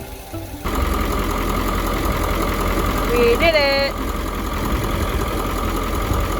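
A rough diesel engine of an old 1995 ambulance van idles loudly and steadily, with a person cheering over it partway through.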